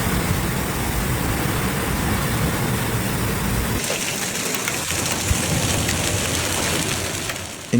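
Heavy storm rain in Japan, with thunderstorms, hail and flooding, pours as a loud, steady broadband hiss, growing denser and brighter partway through, with no voices.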